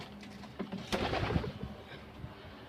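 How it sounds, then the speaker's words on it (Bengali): A pigeon coos a few soft, low, rolling notes close by in a quiet room, from the floor beneath a raised loft platform. "ঘরটার মাচার নিচে মানে ফ্লোরের মধ্যে আর কি এই কবুতরটা"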